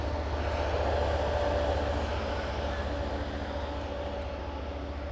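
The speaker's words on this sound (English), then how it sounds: "there's the train again" A train rolls past as a steady, continuous low rumble with a faint tonal hum, moderately distant and unbroken throughout, with no one speaking over it.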